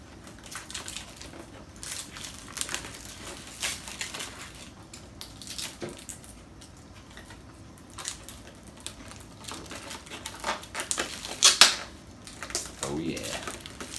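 Protective plastic film peeled off a WLtoys 12423 RC car body, giving soft crackling and crinkling bursts at close range, with a sharper rip near the end.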